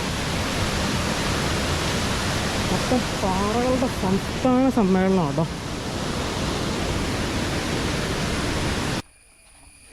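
Water from Anachadikuthu Waterfalls pours down over rocks after rain, a steady broadband rush filling the whole clip, with someone talking briefly over it in the middle before the roar cuts off near the end.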